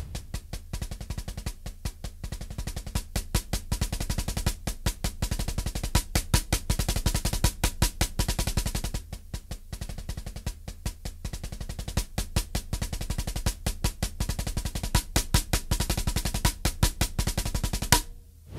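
A drum doubles exercise is played as fast thirty-second notes, a dense, even stream of sharp strokes with steady accents and a brief pause partway through, close and clear with no voices.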